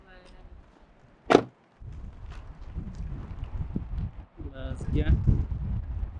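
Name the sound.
strong wind blowing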